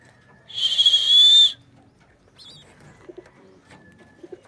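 Domestic pigeons in a loft: one clear, drawn-out whistling call up close, followed by faint soft coos and small bird sounds in the background.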